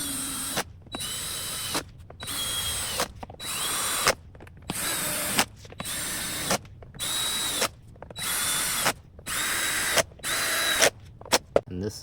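Cordless drill on a low speed setting driving screws into the mesh grille of an RCF SUB 9006-AS subwoofer, about ten short whirring bursts with brief gaps, close and loud.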